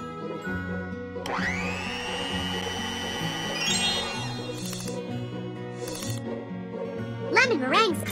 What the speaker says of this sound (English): To mix even quicker, use Orange Blossom's electric mixer.